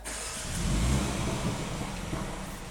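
A BMW M235i xDrive engine turns over and catches, settling into a steady, moderately loud idle with a faint rev near the start.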